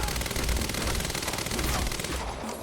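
Gunfire in the video game Quantum Break comes as dense, continuous automatic bursts that blur into one loud, sustained roar.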